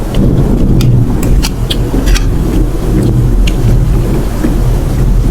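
Heavy rain pours steadily outside, dense and close, with a low rumble of thunder beneath and several sharp cracks or drips standing out; no one speaks.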